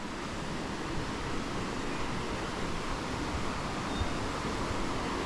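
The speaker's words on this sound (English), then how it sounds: "You can hear the water." A steady, broad rush of water flowing over a weir in Canterbury fills the scene evenly and without pause at moderate volume.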